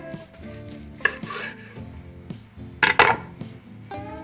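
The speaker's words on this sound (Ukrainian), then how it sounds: "Зараз будемо розрізати сальце." A knife cutting through salo, cured pork fat, on a board: a few close, soft slicing strokes with sharper knocks of the blade near the end, and quiet background clatter.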